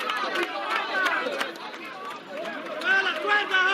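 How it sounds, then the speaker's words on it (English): A crowd of people at the Venezuela border cheers and chatters, a dense wash of many voices rising and falling, with louder shouts swelling toward the end. "You can hear the cheering. I'm going to pause for a minute so you can listen in."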